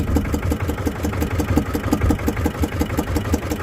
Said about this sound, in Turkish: Görüldüğü gibi motorla atıyoruz.